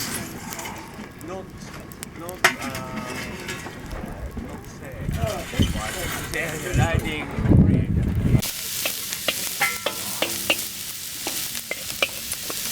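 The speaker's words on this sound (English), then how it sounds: "Frying on coals." Food sizzles and crackles in a pan over hot coals outdoors near Uluru, with stirring scrapes and clatter, while people talk in the background.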